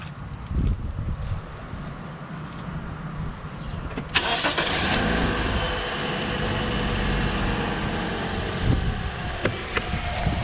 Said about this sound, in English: I'll go ahead and start the car and make sure that this battery works fine